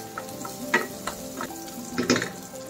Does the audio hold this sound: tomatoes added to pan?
yes